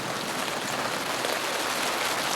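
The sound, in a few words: rain starting to fall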